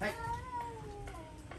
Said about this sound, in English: We got a cat fight.